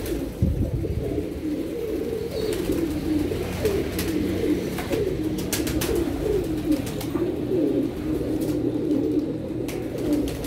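Pigeons coo in low, repeated throaty calls, several birds close by, with occasional flutters and clicks around them.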